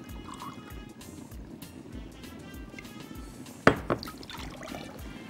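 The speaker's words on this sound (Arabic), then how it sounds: "هناخد نص كوباية من السكر كده، وعليهم كوباية من المية." A cup of water poured onto half a cup of sugar in a kitchen: a soft, continuous liquid trickle with a brief louder splash near the end, close and fairly quiet.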